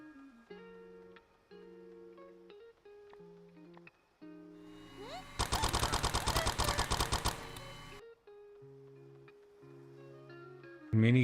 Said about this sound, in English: Minigun. My beloved.